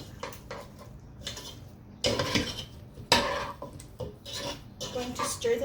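Seasoned chicken wings being stirred in a bowl with a utensil, giving close, irregular scraping and clinking against the dish in short bursts with a few louder knocks.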